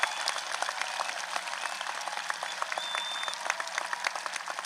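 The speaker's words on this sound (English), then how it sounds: "Round of applause for those who serve our country." Sustained audience applause at a high school graduation honoring military veterans, a dense, steady wash of many hands clapping from a large crowd throughout, with no clear voices.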